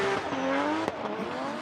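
Benedictus Cherba's drift car spins its wheels off the line at Drift Masters Round 1 qualifying in Italy. A loud, close engine roar climbs in pitch, overlaid with tire squeal, and a sharp pop comes midway.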